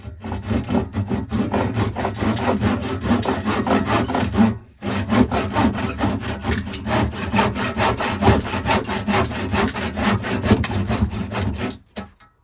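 A hand saw rasps steadily through wood in long back-and-forth strokes, close and continuous, with a brief pause midway.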